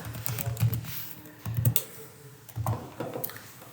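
Keys on a computer keyboard tapped out in three short, close bursts while an email address is entered on an online banking registration form, with no voices.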